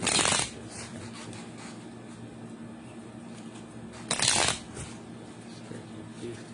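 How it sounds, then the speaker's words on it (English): Tarot cards are shuffled in two quick riffling bursts, one at the start and one a few seconds later, with quiet handling noise between them. "Let me shuffle a little more."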